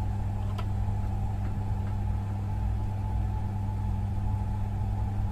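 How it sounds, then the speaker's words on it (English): A refrigeration compressor on a Dixell-controlled unit keeps running through a fan defrost cycle, giving a steady low mechanical hum with a constant tonal drone throughout and no talk. "And compressor keep on running"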